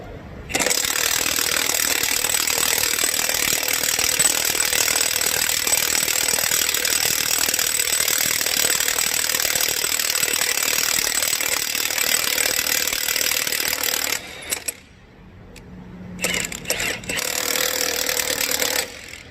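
A Milwaukee impact wrench hammers off a lug nut in one long, loud, rapid rattling burst of about fourteen seconds, then stops and gives a few shorter bursts.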